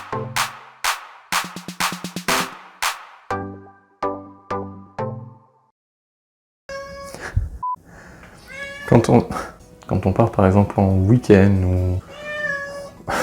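A cat meowing inside an apartment: a series of short, clear meows in quick succession, then after a pause a person speaks at length while further meows mix in under the voice.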